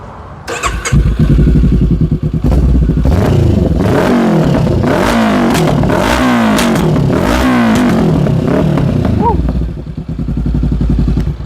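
A Honda CBR500R motorcycle exhaust revs hard several times up close, rising and falling in loud bursts with crackling pops before settling back to a rumbling idle.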